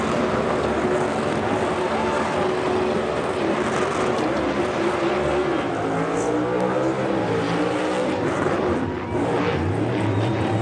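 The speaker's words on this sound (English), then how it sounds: "Good burnout, too. Gonna need some tires, boys." A race car roars through a burnout after a NASCAR win by Shane Van Gisbergen, engine noise loud and steady across the whole stretch, with wheelspin screech and crowd wash blended into a dense, continuous din.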